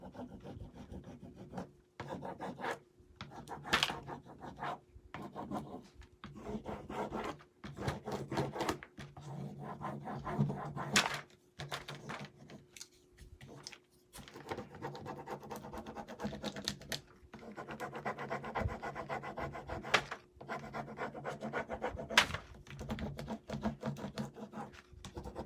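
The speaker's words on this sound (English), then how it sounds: "all you do is rub it across all of the lettering" Rubbing transfer lettering onto a Dollar Tree DIY craft piece: repeated dry scratchy rasping strokes of moderate loudness, in short bursts with brief pauses, continuing steadily with no talk.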